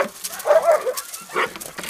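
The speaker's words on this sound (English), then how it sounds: "Ah, doggies." Several dogs close by give short yips, whines and whimpers in quick, uneven bursts.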